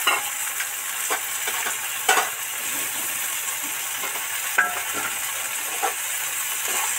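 Coriander leaves fry in hot oil in a pan for a pomfret fish dish, giving a continuous crackling sizzle. Sharp clinks and scrapes of a stirring utensil cut in at intervals, and no one speaks.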